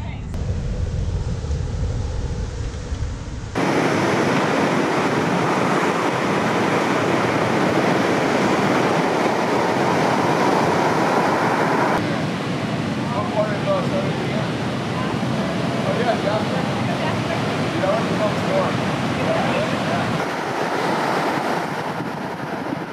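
Ocean waves breaking at a North Shore surf spot, a steady loud roar of surf with gusting wind buffeting the microphone throughout, alone without talk.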